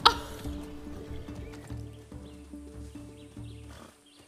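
Horse in a video game, a sharp opening whinny followed by rhythmic clopping hooves and layered game sound effects that fade toward the end.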